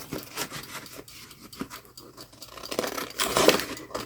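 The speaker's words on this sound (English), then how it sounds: "So I'm going to go ahead and cut this out." Scissors cutting out a paper page pocket, soft irregular snips and rustling paper near and quiet, alone with no talk.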